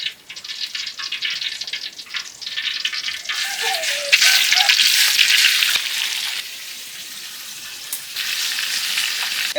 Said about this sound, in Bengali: হলুদ মাইকে নিচ্ছি, এখন মাছটা ভাইজে নেব।